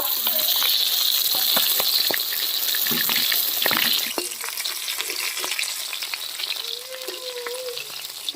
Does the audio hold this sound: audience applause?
no